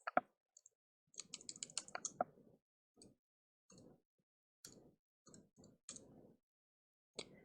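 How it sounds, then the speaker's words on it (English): Numbers typed on a computer keyboard come through as sparse, quiet clicks in short clusters with gaps between them, heard alone and close up. "So on the total, you just type in"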